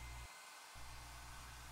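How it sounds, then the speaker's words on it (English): A hair dryer blows hot air across plastic window insulation film, a loud, steady close-up whir that briefly dips at one point before resuming its constant roar. "Move the hair dryer back and forth."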